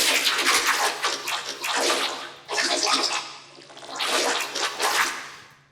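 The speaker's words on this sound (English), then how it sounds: "there's a lot of these Foley water sounds" Foley water sound effects layered into an electronic music track, with broad splashing, washing bursts in three surges separated by brief dips, loud and close with no voices.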